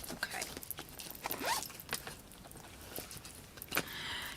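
Zipper of a small pouch being pulled in a few short rasping strokes, close and moderately loud, amid handling noise and faint talk in the background.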